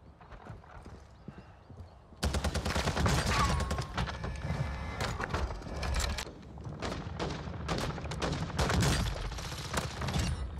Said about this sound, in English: Let's see if I can shoot this guy through the window.